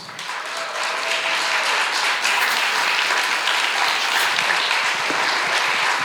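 Loud, sustained applause from a large crowd, dense clapping that keeps up evenly for several seconds.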